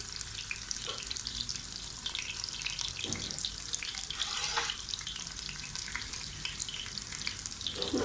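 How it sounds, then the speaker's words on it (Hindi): Chicken frying in a pot for a turnip and meat curry gives a constant low sizzle with faint splashes and stirring clinks, quiet and continuous without speech. "पहले इसको फ्राई किया जाता है ताकि इसका जो कलर है ना इसके ऊपर आ जाए"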